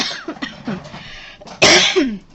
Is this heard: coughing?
yes